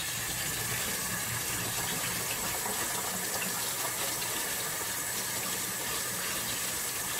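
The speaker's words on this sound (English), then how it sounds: "Wash the hands again." Tap water runs steadily and continuously from a faucet during hand washing in a home kitchen while trifle is being made, a constant broadband splashing hiss with no talking.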